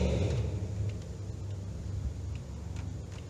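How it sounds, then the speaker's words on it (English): A C5 Corvette passes at a distance with a low engine rumble that swells and fades, heard against faint background ticking. "This car that's about to drive by has been trying to get my attention."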